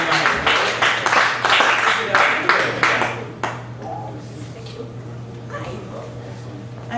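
Applause from the audience at a Chicago poetry open mic, a burst of clapping for about three seconds that then stops abruptly, leaving faint room hum and a low electrical tone.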